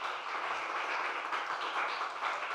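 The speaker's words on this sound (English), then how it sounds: "join me in a big round of applause for our speakers" Steady, fairly faint applause from a conference audience for the speakers on the debt burden of low and middle income countries, an even wash of many hands clapping with no talk.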